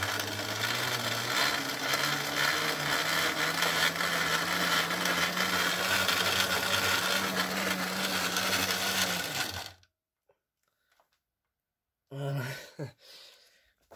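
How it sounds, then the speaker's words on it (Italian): An e-scooter wheel spinning under motor power after two months unused gives a steady mechanical whir with a low hum for about ten seconds. It cuts off abruptly, then a brief second burst follows. "Gira, ora riesce a girare la ruota."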